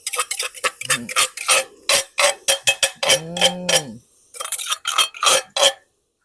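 Pounded shallot, lemongrass, kaffir lime leaf and chili paste being stirred in a pot, a quick series of sharp metallic clinks and scrapes from a utensil against the pot, close and loud, with a brief voice partway through.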